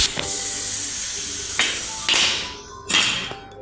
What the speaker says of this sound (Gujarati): આપણે કુકરમાંથી હવા કાઢી નાખીએ.